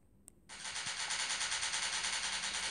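Rapid automatic gunfire in the MilkChoco shooter game, a single shot followed by a sustained burst of fast, even shots rattling on without pause, loud and close, no voices.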